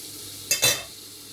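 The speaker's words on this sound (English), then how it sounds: "That last set of chicken there frying." Chicken frying in a pan during a Sunday dinner cook, with a steady low hiss throughout and a brief louder crackle burst near the middle.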